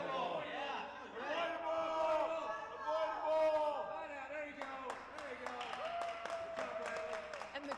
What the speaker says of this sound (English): the crowd is really getting into this right now